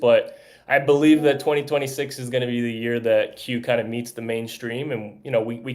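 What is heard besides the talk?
No distinct noise like a dog, phone or traffic.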